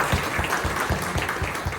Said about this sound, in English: So big clap for sir.